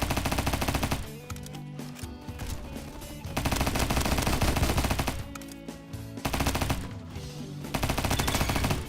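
Bursts of rapid automatic fire from an M16 in 9mm in the Roblox shooter Bad Business, loud and close, coming in several sustained strings separated by short pauses.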